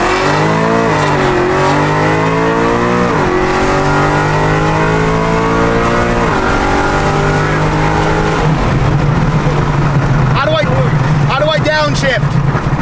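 A Subaru STI engine revs loudly while driving, pitch rising and falling through shifts, with a rougher idle-like rumble near the end and some talk over it.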